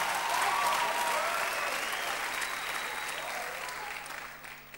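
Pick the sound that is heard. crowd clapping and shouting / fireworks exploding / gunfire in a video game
crowd clapping and shouting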